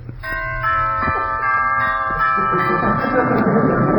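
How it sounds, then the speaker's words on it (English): A bell chime rings out with sustained tonal ringing that hangs in the air, followed by growing background noise and faint voices. "Where's the doorbell?"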